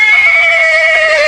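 A horse in the video game Rival Star Horse Racing whinnies when touched, one loud, high, sustained neigh that wavers slightly across about a second, heard alone with no talking.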